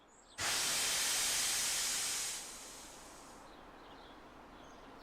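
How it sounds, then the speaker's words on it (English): A steam locomotive, Thomas the Tank Engine, lets out a broad hiss of steam that starts abruptly, holds steady for about two seconds, then eases into a quieter lingering whoosh. It is heard alone, with no talking. "When he's sad, he lets out a slow whoosh of steam."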